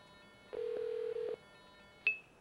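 Telephone trunk signaling tones: a steady low tone holds for nearly a second, then after a short pause a brief higher-pitched beep sounds, clean and isolated over faint line hiss.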